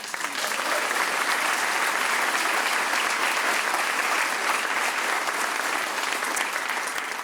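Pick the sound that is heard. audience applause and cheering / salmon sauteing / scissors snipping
audience applause and cheering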